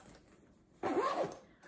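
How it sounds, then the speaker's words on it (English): A zipper being pulled closed on a packed Carousel XL bag, one quick close zipping stroke after a quiet pause, near and clear with no talking. "let's see if it zips up first."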